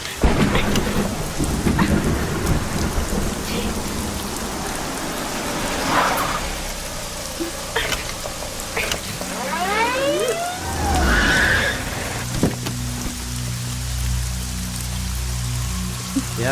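Heavy rain pours steadily through a movie scene while loud rolls of thunder rumble across it, with a brief swooping effect partway through and no voices.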